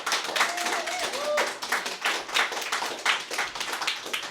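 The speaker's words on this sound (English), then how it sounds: "so much applause for Fifi" Audience clapping for a reader at a literary reading event, a moderate patter of hands from a small crowd with a brief voice heard over it early on.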